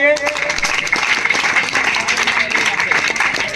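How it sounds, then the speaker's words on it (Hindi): Applause from a gathered audience at a college team prize announcement fills the room, continuous clapping mixed with voices and some musical tones underneath. "ताली बजाओ इसके लिए"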